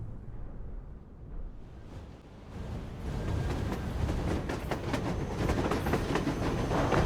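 A railcar train rolls along the tracks in the Metro Exodus video game, a low rumble building into a steady loud roar with faint rhythmic clacking, close and without talk.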